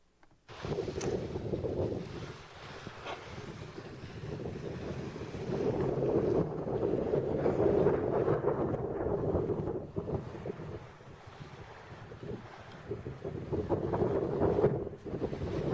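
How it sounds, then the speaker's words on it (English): A sailboat heads toward New Zealand across open sea in fair weather, heard as a constant rushing of wind over the microphone mixed with the wash of water and waves, loud and unbroken for the whole stretch with no voices. "a short clip that he took when he was in fabulous weather, sailing towards New Zealand"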